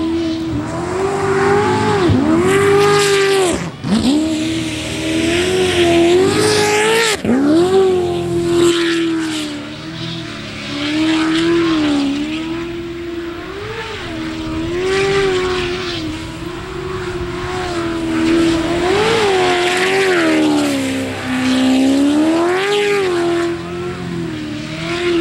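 Race car engine accelerating hard through corners, a loud, strained tone rising and falling with each shift and throttle change, with a couple of sharp dips and a brief tire squeal, close and continuous with no talk.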